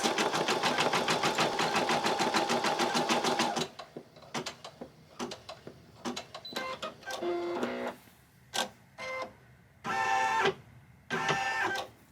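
A home embroidery machine stitches out a bunny treat bag design, running in a steady, dense mechanical rhythm for the first few seconds, then stopping and giving way to short, intermittent bursts of needle movement as the colors change.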